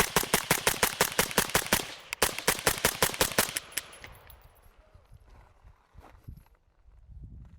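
.223/5.56 rifle shots from an 11-inch gun through a titanium B&T 22LR suppressor: a fast, loud string of sharp cracks in rapid succession, a brief pause, then more rapid shots before fading to quiet outdoor background.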